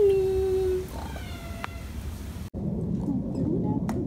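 A cat in a garden gives one drawn-out meow at the start, followed by quieter household sounds and a faint short mew near the end.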